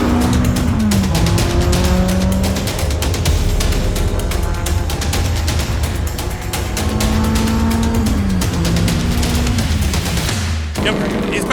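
Race cars roar past at full throttle after the green flag, dense engine wail with shifting pitch sweeps and rapid crackling pops, loud and continuous, ending abruptly.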